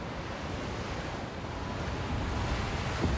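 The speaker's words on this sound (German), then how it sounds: "hier Wellen gegenschlagen und der scheiß Regen" Steady broadband roar of waves washing against an oil rig with wind and rain hiss in the video game Still Wakes the Deep, continuous and fairly close, no talking.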